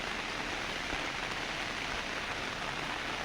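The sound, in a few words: rain falling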